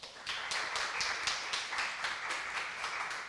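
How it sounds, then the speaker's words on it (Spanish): Audience applause at a university event in Panama, a steady patter of many hands clapping at moderate distance, sustained and even throughout without voices. "y el profesor Juan Carlos Hernández, para quien también pido un aplauso,"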